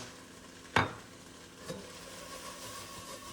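Chicken fried rice tossed in a pan with a little sesame oil, heat cut off: one sharp scraping toss with a soft sizzle, a fainter second shuffle about a second later, then a low steady hiss.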